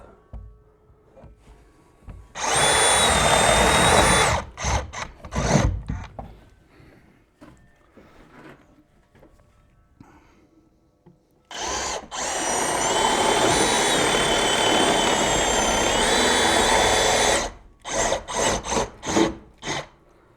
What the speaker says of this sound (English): smaller amp hour battery will run this drill with this size of a bit